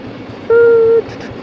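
A train near Banihal station in the Ramban district of Jammu and Kashmir sounds a short, loud steady horn note for about half a second over a low rolling rumble.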